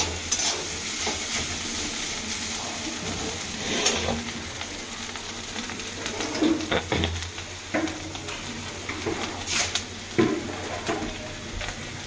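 Banana stem sizzles steadily in a pan as poppy seeds are scattered in, while a utensil stirs and scrapes against the metal now and then, close by, with no talking.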